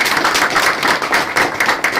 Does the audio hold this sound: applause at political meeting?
yes